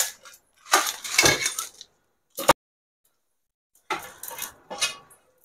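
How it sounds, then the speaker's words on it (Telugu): Cooled cooking ingredients for brinjal chops go into a mixie jar, giving short clinks and scraping clatters in two or three separate bursts with quiet gaps between. "మిక్సీ జార్లో తీసుకుంటున్నాను."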